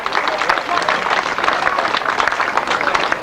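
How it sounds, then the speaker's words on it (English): Crowd applause at a 1998 Collier Street grasstrack race prize giving, a dense, steady clapping that fills the whole stretch at a fairly close, loud level, with no voices cutting through. "let's give one more round of applause then."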